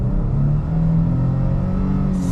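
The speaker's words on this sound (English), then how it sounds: "You have the V6, which has a nice pull to it." A 2022 Nissan Frontier pickup's V6 engine pulls steadily under acceleration, a continuous low engine drone and rumble heard from inside the quiet cabin, with no talking.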